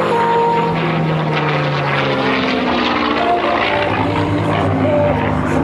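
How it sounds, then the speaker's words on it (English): A polished P-51 Mustang with a Packard-built Rolls-Royce Merlin engine roars steadily at an airshow open house. The engine drone is loud and sustained throughout, with a deep throbbing note and changing tones as the plane passes. "Listen to the sounds of that Packard."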